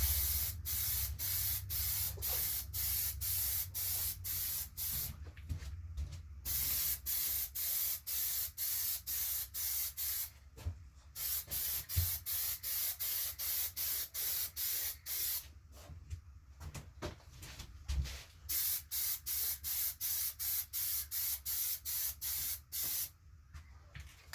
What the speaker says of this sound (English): Spray it at a different angle.